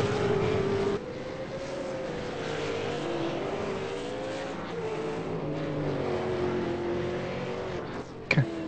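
V8 Supercar lapping the Zandvoort circuit in qualifying, a high engine whine rising and falling through gear changes and throttle application, steady and fairly loud, ending with a brief sharp burst.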